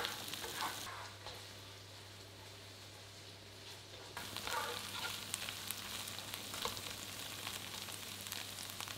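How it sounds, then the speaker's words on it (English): Chorizo, minced garlic and tomato puree frying while stirred in a pan for penne arrabbiata: a faint, steady sizzle with soft scraping strokes and a low hum underneath. "Now stir in 2 cloves of minced garlic and a tablespoon of tomato puree or paste and cook"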